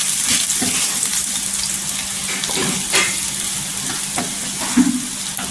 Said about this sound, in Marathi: कांद्याला छान असं परतून घ्यायची